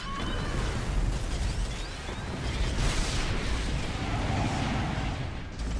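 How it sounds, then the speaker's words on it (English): Missile tanks and gauss tanks fire on patrol craft in a 1v1 strategy game match, a dense wall of overlapping blasts, booms and crackling impacts, loud and continuous. "Missile tanks and gauss tanks sniping off these patrol craft."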